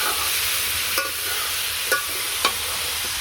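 Chilies frying in oil in a pan, a loud steady sizzle with a few brief scraping stirs of a utensil at intervals.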